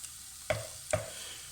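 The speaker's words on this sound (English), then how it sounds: "So, in go our tomatoes." Tinned chopped tomatoes go into a pan of sausage, fennel and chili ragu, giving two quick wet splatting plops over a soft steady sizzle, close and fairly quiet.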